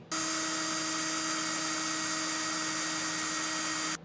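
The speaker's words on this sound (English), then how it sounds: "So grab a 3/8 drill bit and your drill." An electric drill with a 3/8 inch bit bores a hole through the metal frame of a 2023 Ford Maverick during a Blue Ox base plate install, a steady high whine running close and unbroken for several seconds before stopping.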